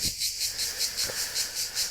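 Cicadas singing on a hot summer morning around eight o'clock near Zadar: a steady, high, buzzing drone that pulses in a regular rhythm, with a few faint low thumps underneath.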